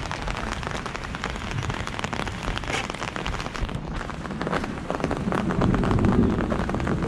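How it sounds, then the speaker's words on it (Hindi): Steady rain falls on a forest mountain trail toward Rudranath temple, a dense close hiss of drops on surfaces and foliage that holds throughout and swells slightly near the end, with no talking. "बारिश हो रही है"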